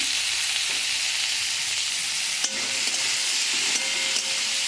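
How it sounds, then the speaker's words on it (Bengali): Green chilies fry in a pan among other vegetables, producing a dense, steady hiss of sizzling oil, close and fairly loud, with a couple of faint stirring knocks and no talk. "আর সবার লাস্টে কাঁচা লঙ্কা। এটা একটু ভাজা ভাজা হোক"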